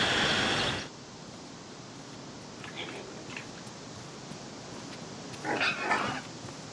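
Pigs on a pig breeder's farm in Chile grunt and oink in short bursts over a steady windy outdoor hiss, with one louder burst at the start and brief calls later.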